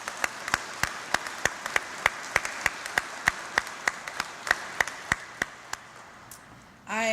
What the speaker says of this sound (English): I think there's a round of applause needed for these supporters.